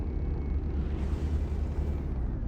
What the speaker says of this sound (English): The cram cannons are fun when they hit.